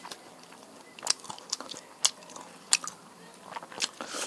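Someone bites and chews food at close range, with several crisp crunchy bites spaced irregularly over a few seconds against a quiet kitchen background.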